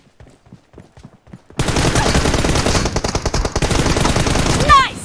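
Gunfire in a one-versus-one multiplayer shooter video game: after brief quiet clicks and steps, a dense, loud automatic burst erupts and continues without pause.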